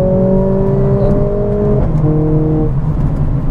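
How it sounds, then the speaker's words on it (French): Mercedes-AMG CLA 45S Shooting Brake, 421 hp, pulling hard out of a sharp change of direction, with a loud steady engine drone and rising tonal whine, a brief gear-shift dip midway, then continuing to pull. "je fais un changement de virage assez violent et la voiture part"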